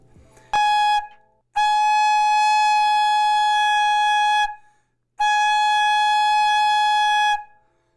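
A sustained, steady flute tone blown twice in long held notes, preceded by a brief short toot, clear and close with silent gaps between.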